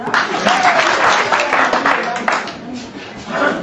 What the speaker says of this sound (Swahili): Kama unasema ni yes, ujipigie makofi.